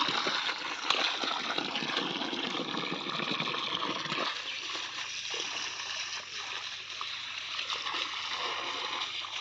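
Water gushes and splashes steadily onto coconut palms being watered on a Konkan morning, a continuous, close, hissing spray that softens slightly midway.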